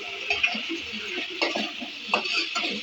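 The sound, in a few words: tomatoes frying in oil for dal palak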